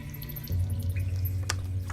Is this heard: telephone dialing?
no